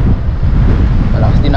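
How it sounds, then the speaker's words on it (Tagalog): Loud, strong wind roaring against a helmet-mounted microphone, a dense continuous buffeting rush with no break, very close and overpowering. "Malakas din ang hangin."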